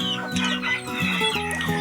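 Free-ranging backyard chickens clucking close by, a run of short, overlapping clucks and warbling calls from several birds with no talking.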